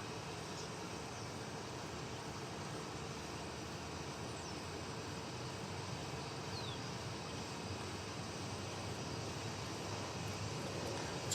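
A 25-year-old airliner at DFW Airport, heard as a steady, distant jet engine roar that holds at an even level throughout without breaks.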